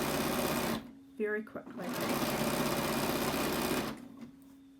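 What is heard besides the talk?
sewing machine stitching with number 10 edge foot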